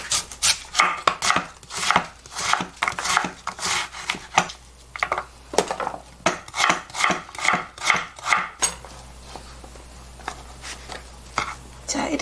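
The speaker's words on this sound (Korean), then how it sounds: "굵게 채를 써둘게요" A knife chops pickled radish into thick strips on a board in a home kitchen, a quick series of crisp rhythmic knocks, then quieter rustling, with a voice speaking now and then.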